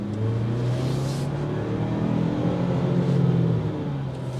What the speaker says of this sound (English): That exhaust note will filter in, even though this is just an inline 4-cylinder EcoBoost turbo.